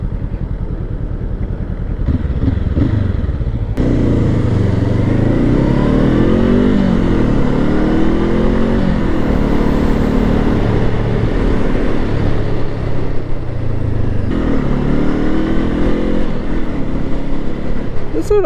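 A Honda SCL500 motorcycle runs loud and steady while riding, its engine note rising and falling through gear shifts, with wind rush and a rider talking over it.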